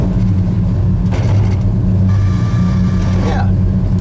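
A 1970 Ford Torino Cobra warms up at idle, its engine giving a steady, deep rumble with an even low throb that holds unchanged throughout.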